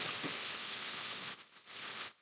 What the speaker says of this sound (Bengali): কি সুন্দর বৃষ্টি